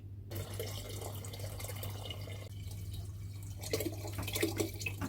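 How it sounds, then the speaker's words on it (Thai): Water is poured into a plastic fermentation tank for banana honey wine, a splashing, trickling stream running steadily close by over a low electrical hum, with no talking. "ระหว่างที่เรารอให้ยีสต์ทำงาน เราจะเทน้ำลงถังหมักเลยค่ะ"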